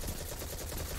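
Gunfire in the video game Destiny 2 comes as a dense, rapid burst of automatic shots, loud and close, filling the whole brief moment.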